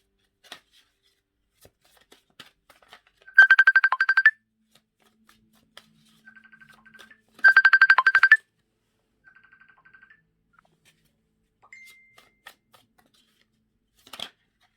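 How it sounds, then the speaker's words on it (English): Phone vibrating on a hard surface during an incoming call: two loud buzzing bursts about four seconds apart, each roughly a second long, with quieter faint buzzes between and otherwise near silence. "Sorry, I was getting a phone call."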